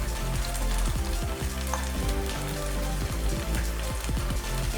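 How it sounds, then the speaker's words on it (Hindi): Onion, green chili and garlic sizzle and fry in a pan as sauces go in, a loud steady crackle with stirring scrapes throughout, no talking. "ये प्याज हरी मिर्च और लहसुन भून चुके हैं।"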